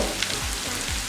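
Spice powders frying in a mutton chop gravy on a tawa, giving a soft continuous sizzle with faint bubbling, close but quiet and brief, with no talking.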